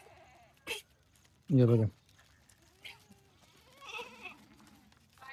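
Kathiawari goats on a livestock truck let out one loud, clear bleat near the middle, with fainter animal calls later, while someone speaks nearby.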